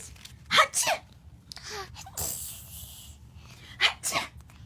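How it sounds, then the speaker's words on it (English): A woman sneezes twice in quick succession near 0.6 and 4 seconds, with softer breathy sounds between, in a quiet home setting where a baby is being entertained. "Mommy sneezes. Hatcha!"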